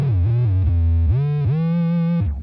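A Keeley Electronics SYNTH-1 pedal plays a smooth, gliding sine tone that bends between pitches in a few sustained, loud notes with no talking.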